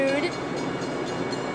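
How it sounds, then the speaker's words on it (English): An 8-car Metra commuter train passes Dee Road station in Park Ridge, Illinois, in 1995. A brief horn note comes first, then a loud, close, continuous rumble of rolling railcars. "It's an 8-car train."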